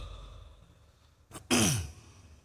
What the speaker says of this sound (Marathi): आज संध्याकाळपासून मला माहित आहे काहीतरी खोकला सुरू झाला मला